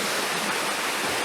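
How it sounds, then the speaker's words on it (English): Waterfall in woods pouring steadily, a dense, even rush of falling water, close and loud with no voices. "Everywhere you look, there's waterfalls."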